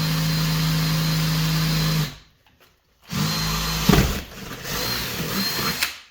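A power drill with a metal bit whines steadily up close, stops for about a second, then starts again, its tone straining and shifting as it bites.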